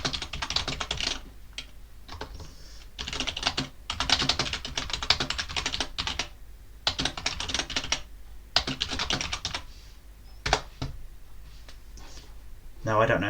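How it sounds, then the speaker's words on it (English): Fast typing on a computer keyboard, close and distinct, in bursts of rapid clicking broken by short pauses, with a voice talking over part of it. "now I don't know if I typed that in properly there"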